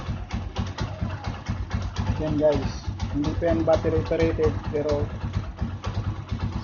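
A Honda TMX motorcycle engine idles with a low, steady pulsing throb while someone talks over it.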